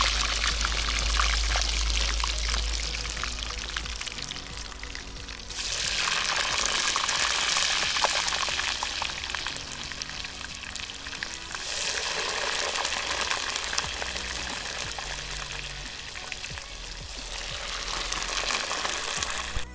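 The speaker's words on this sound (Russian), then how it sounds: "Как огонь большой, картошка жарится очень быстро." Potato fries sizzle in hot oil in a kazan over a big flame, a steady, loud hiss of frying that swells and eases in waves for about twenty seconds, with no talking.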